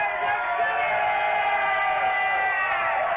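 Fans in a St. Louis restaurant and sports bar celebrate Mark McGwire's 62nd home run with a steady, loud wall of cheering and whooping, many voices blending into one sustained roar for the whole moment.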